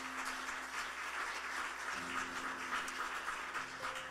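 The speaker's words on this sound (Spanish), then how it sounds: "Dale fuerte el aplauso con los que aplauden." Applause from a church congregation, a steady patter of many clapping hands at moderate distance, with sustained organ or keyboard tones underneath.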